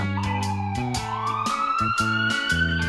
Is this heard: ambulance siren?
yes